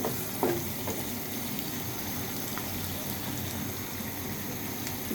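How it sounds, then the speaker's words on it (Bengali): Onions and garlic paste frying in oil in a pan, a steady soft sizzle with a light scrape of stirring near the start, heard alone at moderate distance while cooking a potato and eggplant curry. "আমি দিয়েছি তেল, দিয়েছি পেঁয়াজ। এটা আমি একটু নেড়ে চেড়ে নিব।"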